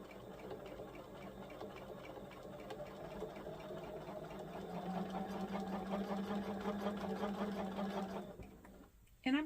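A sewing machine stitching a quilt runs in a steady fast whir of needle strokes, quiet and close, picking up speed midway before stopping abruptly near the end.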